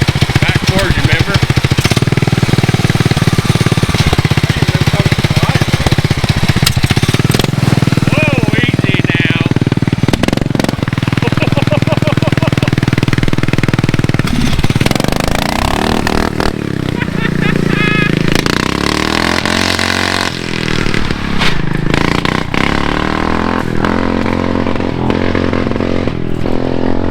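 A modified lawn mower engine runs loud and rough throughout, its throttle rising and falling with a knocking, hammering edge, while people talk over it.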